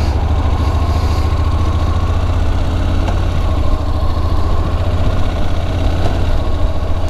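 A Honda NC750X motorcycle idles in gear, its engine giving a steady, loud, low rumble that keeps an even throb for several seconds with no talking over it.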